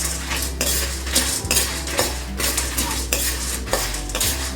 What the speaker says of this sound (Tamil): அடுப்பை வந்து குறைச்சிட்டு ஃபுல்லாக குறைச்சிட்டு தான் இதெல்லாம் வறுத்துட்ருக்குறேன்